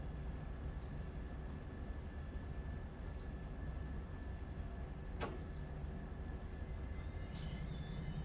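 An MP36PH diesel locomotive in Train Sim World 3 rolls steadily into a platform with a constant low engine rumble, a brief sharp click partway through and a short hiss near the end, with no talk.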